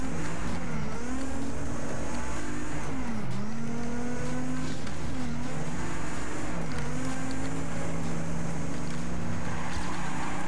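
Racing car engine in the video game Trackmania 2 Canyon, revving steadily and loud throughout, with pitch sweeps as it shifts and corners, no talk over it.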